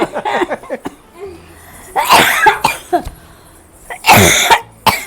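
Harsh, loud coughing fits close to the listener, several bursts separated by short pauses and gasping breaths.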